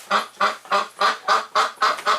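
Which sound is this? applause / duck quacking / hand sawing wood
duck quacking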